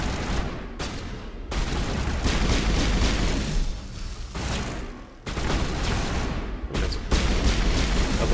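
Sustained loud bursts of gunfire with corrosive rounds in Mass Effect 1, rapid automatic fire in long volleys broken by a few brief pauses, with heavy booming impacts mixed in.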